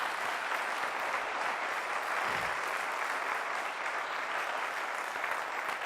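Steady, dense applause from a church congregation, loud and unbroken for the full stretch at a Christian worship service with no voices over it.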